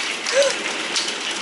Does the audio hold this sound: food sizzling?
no